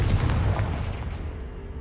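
A Confringo blast spell in Hogwarts Legacy bursts with a deep, booming explosion that rumbles and fades out over about a second and a half.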